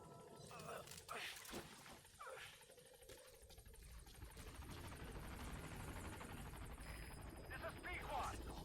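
Pequod helicopter in Metal Gear Solid V approaching a landing zone, a steady rotor roar that swells and grows louder as it nears, with radio voices speaking over it.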